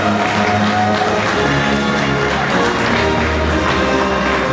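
Steady, loud applause from the audience at a Polish teen beauty pageant results ceremony, continuous dense clapping filling the hall with crowd murmur beneath, no break across the few seconds.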